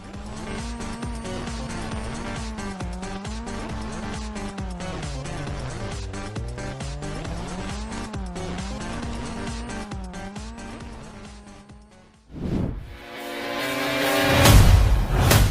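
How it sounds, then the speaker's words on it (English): Race cars in the mobile game OWRC Open World Racing roar with a steady, wavering engine drone for about twelve seconds, then a sudden loud burst of tire squeal and skidding noise closes it out. "OWRC Open World Racing is a frantic racing game for mobile."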